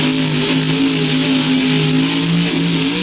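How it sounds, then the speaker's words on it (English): Engine of a regular-sized monster truck in BeamNG Drive, revving steadily and loud for the whole stretch, with a continuous mid-pitched drone and no voices. "I just heard a regular-sized zombie monster truck!"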